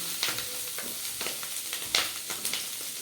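Drumstick leaves and onions fry in a pan, a steady hissing sizzle with soft, irregular stirring clicks and scrapes throughout.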